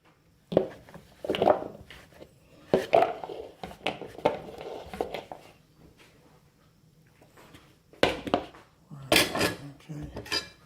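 Dishes clattering as a bowl is taken out in a home kitchen while cooking Bengali bottle gourd with prawns: scattered ceramic clinks and knocks in two bursts separated by a quieter pause, close and moderately loud.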